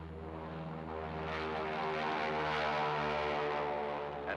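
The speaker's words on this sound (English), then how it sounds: "At 1-minute intervals, 7 F-13 photographic aircraft soared into the morning sky, followed by 2 C-54 photoplanes." Propeller engines of an F-13 photographic aircraft taking off into the morning sky over a lagoon in 1946, a steady droning roar that swells in the middle and holds, with no talk.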